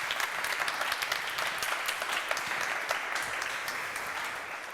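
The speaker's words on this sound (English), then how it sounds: "Can I get a round of applause" A conference audience at AmCham Finland's Transatlantic Opportunity event applauds: dense, sustained clapping from a large crowd, steady and even throughout with no voices rising above it.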